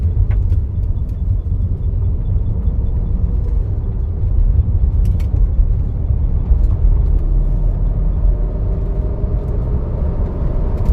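A car is driven along a road, its engine and tyres making a loud, close, steady low rumble with small bumps and clatters, and no one speaking.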